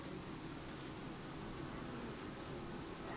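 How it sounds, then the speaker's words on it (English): Steady buzzing of honeybees swarming around an open hive during an inspection, a dense, continuous drone filling the air at close range with no voices. "bee just landed on my hand"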